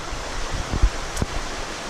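Water free-falling about 30 inches through a koi pond shower-tower filter stuffed with nylon mesh scrubbers, a steady broad splashing rush with a few brief louder splats, close and continuous.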